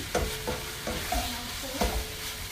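A spoon scrapes and stirs through ground turkey chili in an all-purpose pot, a few distinct knocks and scrapes over a soft sizzle, close and brief with no voices.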